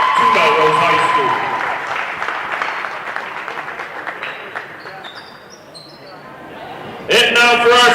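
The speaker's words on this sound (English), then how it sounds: "Let's have one last round of applause for these 4 seniors in their contributions to Melrose High School" A high school basketball gym crowd applauds four seniors, clapping loud at first and then thinning into scattered claps before a voice over the loudspeaker cuts in.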